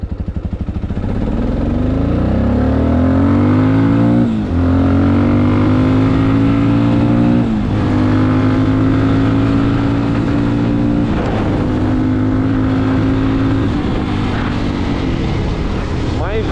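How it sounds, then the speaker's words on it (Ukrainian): TEKKEN 300 motorcycle engine accelerating in second gear, loud and close, the tone rising steadily through several upshifts with brief dips between gears; a person talks under the engine noise. "Дивіться, давайте даємо другу передачу."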